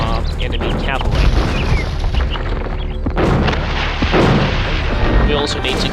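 Bombard cannons fire in a battle in the Age of Empires II strategy game, heavy booms and crackling blasts repeating over continuous battle noise, with someone talking over them.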